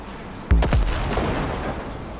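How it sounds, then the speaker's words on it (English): A grenade explodes in the video game Cyberpunk 2077 on PS5, one loud, close boom followed by a rumbling tail that fades under a steady background. "I can maybe reach him with a grenade"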